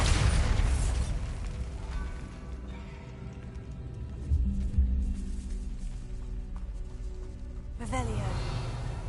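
A Bombarda spell blast in the game Hogwarts Legacy, a loud booming burst at the start followed by rumbling debris and another boom near the end, with a voice speaking over it.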